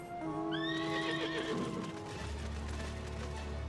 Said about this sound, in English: Horse has wings, but he can't fly.